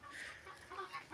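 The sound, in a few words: Japanese breed hen clucking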